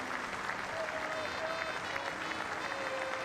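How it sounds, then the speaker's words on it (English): A cricket crowd at the Basin Reserve in Wellington applauds Joe Root's Test century, a steady wash of distant clapping with faint calls from the stands throughout. "Root takes the applause from another good crowd here at the Basin Reserve"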